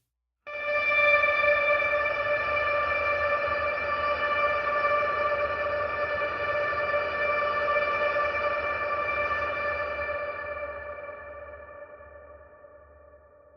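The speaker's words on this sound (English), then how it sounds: "there's a very long ambient decay on there. It's a huge amount of reverb." A single sustained electric guitar note through a Line 6 Helix swells in and rings for many seconds, washed in long ambient reverb and delay before slowly fading out.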